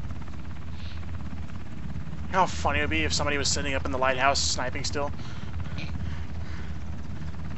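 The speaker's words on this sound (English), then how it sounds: "Nobody's boarding my helicopter." The steady drone of a helicopter in the video game Ring of Elysium runs low and continuous under a voice, which talks through the middle of the clip.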